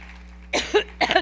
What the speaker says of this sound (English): Here she is 6 months ago in New York having a massive coughing fit.